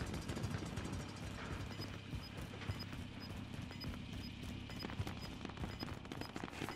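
Rapid gunfire from Call of Duty: Modern Warfare, a dense steady crackle of shots in an ongoing battle, fairly faint and continuous with no clear pauses across the stretch.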